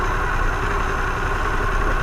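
A Harley-Davidson Pan America motorcycle idles at a traffic light, a loud, close, steady low rumble with an even pulsing throb.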